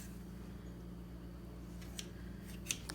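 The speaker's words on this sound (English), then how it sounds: "we're just gonna like snip an X in the bread dough here" A few quiet snips of kitchen scissors cutting an X into bread dough over a steady low background hum, the cuts soft and brief.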